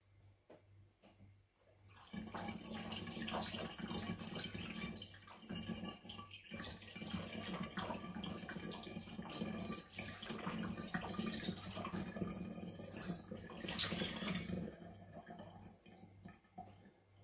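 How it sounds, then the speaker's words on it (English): Cold water pours steadily into a winemaking fermenter through a funnel for over ten seconds, a continuous splashing rush that starts abruptly and fades out, close and fairly quiet. "Now we add 3 pints of cold water."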